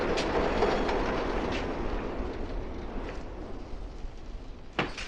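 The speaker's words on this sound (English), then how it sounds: "How often does the train go by?" Elevated L train rumbling past close by, a loud continuous roar with rhythmic wheel clatter that slowly eases, and a sharp metallic clank near the end.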